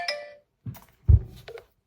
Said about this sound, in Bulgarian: Хора, една моя приятелка ми звъни.